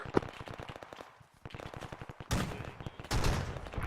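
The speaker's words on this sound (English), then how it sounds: "They're shooting grenades." Grenade launcher and rifle fire during Marine platoon training with the 15th MEU at a compound: rapid strings of sharp reports in bursts, some distant and some heavier and closer, with no talk.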